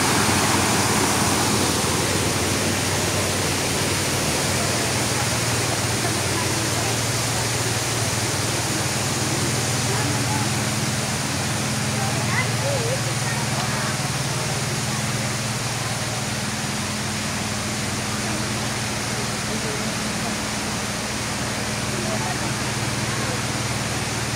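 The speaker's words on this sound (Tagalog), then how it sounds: "Look at the falls." Waterfall on the Island Garden City of Samal, a steady broad rushing wash of falling water heard close and continuous throughout, with people talking faintly underneath.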